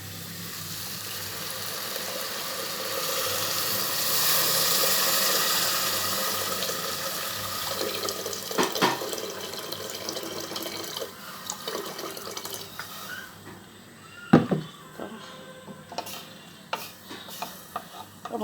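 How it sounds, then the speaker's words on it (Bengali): Water being poured into a cooking pan while chorchori, a Bengali mixed vegetable dish, is prepared; a steady splashing pour swells and fades over several seconds, followed by clinks and knocks of utensils against cookware. "এবার দিয়ে দেবো পানি।"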